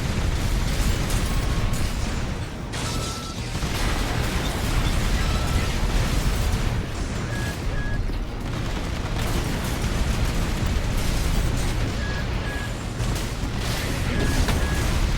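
Plasma shotgun blasts and explosions in Armored Core 6 roar through a dense, continuous wall of mech combat noise, loud and unbroken for the whole stretch with no clear gaps between bursts.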